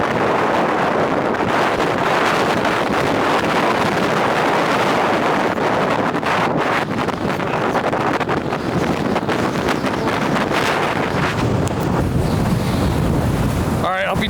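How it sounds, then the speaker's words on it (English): Heavy wind from Hurricane Erin at Ocean City, Maryland buffets the microphone continuously, a loud roaring rumble that swells and gusts, with a sharp rustle near the end. "It's very windy."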